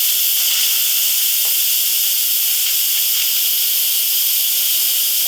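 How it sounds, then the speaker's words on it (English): Steam hissing continuously and loudly from a pressure cooker's release valve after cooking cabbage, a steady high spray with no break and no talking. "And then I've got to let the steam out."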